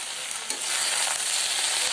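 Malabar spinach leaves being stirred into a frying pan for a Bengali chhyachra, giving a dense, steady, close sizzle with soft scraping of the spatula and no voices.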